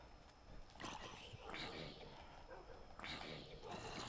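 Tamed wolf dogs in the video game Minecraft yip and whimper in short, repeated bursts over a low, steady background.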